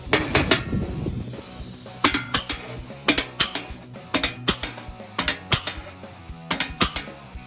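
Repeated sharp metallic clanks and snaps in irregular bursts, loud and close, from a hand hole punch tool punching through sheet metal for a taillight panel.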